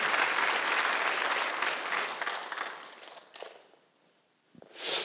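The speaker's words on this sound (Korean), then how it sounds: "박수하면서." A church congregation claps during a Sunday worship service, loud dense applause for about three seconds, then thinning and trailing off into a quiet room with a final short burst.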